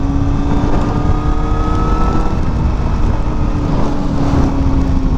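A new motorcycle rides through a rainstorm, its engine a steady loud drone with a constant tonal hum, blended with continuous wind and road rush, and no talking.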